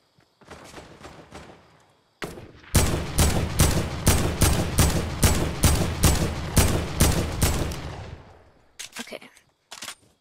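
Rapid gunfire in the video game Fortnite: a short burst, then a long steady string of loud evenly spaced shots, followed by a few scattered final shots.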